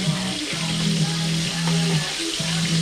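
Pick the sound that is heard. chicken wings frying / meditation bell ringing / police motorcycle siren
chicken wings frying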